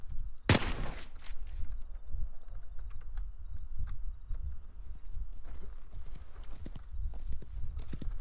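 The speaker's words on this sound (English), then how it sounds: "Everybody thinks a gunshot means a fight. It's pretty funny. I'm just shooting bottles, people." In the video game Wild West Online, a single sharp gunshot fired at bottles cracks out near the start. Quieter clicking and clopping, like hooves, follows and runs on.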